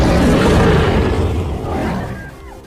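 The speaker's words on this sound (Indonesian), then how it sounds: "Yang terdengar adalah suara singa jantan dewasa." An adult male lion, Mufasa from The Lion King, lets out a loud, rough roar that fills the opening seconds, swells again briefly, then fades out.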